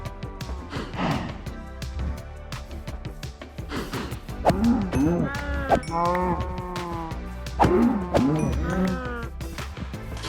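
Minecraft cows moo in several drawn-out, rising and falling calls near the listener, with background game ambience and footsteps between the calls.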